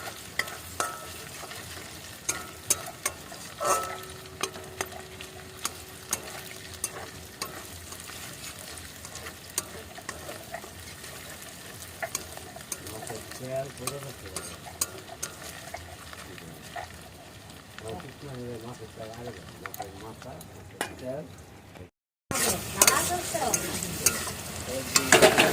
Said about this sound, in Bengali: তো তেল বেগুনটা রান্না করে নেবো এখন।